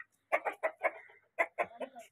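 A rooster clucks in a run of short, close bursts, pausing briefly before a few more clucks.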